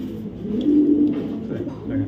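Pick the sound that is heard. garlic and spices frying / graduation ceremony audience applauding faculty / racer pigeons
racer pigeons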